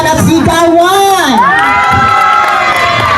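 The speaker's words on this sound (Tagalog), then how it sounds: "Isang malakas na palakpakan at sigawan!" A crowd cheering and shouting loudly at a grand opening event, with high excited children's yells rising and sliding in pitch, continuous and close throughout.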